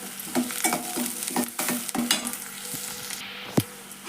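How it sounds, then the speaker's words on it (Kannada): Onions and curry leaves frying in hot oil, a steady close sizzle broken by repeated stirring scrapes of a spoon against the pan, with no voices. "ನೋಡ್ರಿ ಈಗ ಉಳ್ಳಾಗಡ್ಡಿ ಫ್ರೈ ಅದು"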